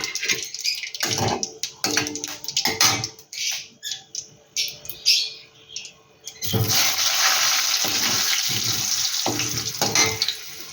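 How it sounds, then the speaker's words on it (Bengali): Dried red chili and radhuni seeds are tempered in hot oil. Short crackling spurts come first, then a loud, steady sizzle sets in and continues up close until the end. "এখানে একটা শুকনো লঙ্কা ফোড়ন দিয়ে দিলাম, আর দিয়ে দিলাম রাঁধুনি ফোড়ন।"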